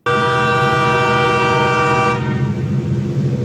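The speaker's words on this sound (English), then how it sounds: "The train announced its arrival with a few blasts from its horn." A train sounds its horn while arriving at the Grover Beach station, a loud, sustained blast holding steady for about two seconds before cutting to a lower rumble.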